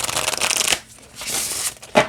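A Loteria Remedios oracle card deck is shuffled side to side, giving close, crisp riffling bursts with a short pause between them.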